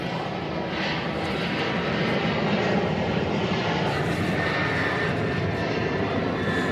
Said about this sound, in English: Next departure is Southwest Flight 547.